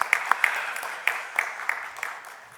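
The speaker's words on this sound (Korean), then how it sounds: "아주 한번 큰 박수로 좀 축복해 주시기 바랍니다" Scattered applause from a church congregation during a Sunday worship service, individual claps sounding in an uneven rhythm that thins out toward the end. The sound is moderately close and no one talks over it.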